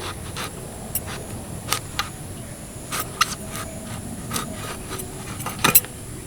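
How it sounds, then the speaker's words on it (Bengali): Eggplant being cut in half with a knife, a series of sharp, close taps and scraping cuts at uneven intervals over a faint background hiss. "এই দুটো বেগুনকে আমি এখন কেটে নেব বেগুনটাকে আমি দুভাগে ভাগ করে নেব"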